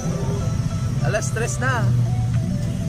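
Busy road traffic at night, a steady low rumble of cars and engines throughout with a voice talking over it midway.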